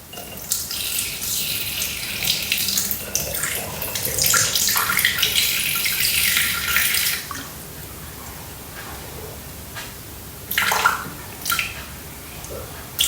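Water pours into a Thermomix bowl, a steady splashing stream for several seconds, then a few brief trickles and drips, close and alone.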